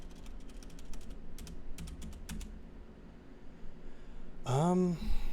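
Rapid bursts of computer keyboard typing, close and crisp clicks in clusters during the first half, then a sigh-like voiced sound near the end over a low room hum.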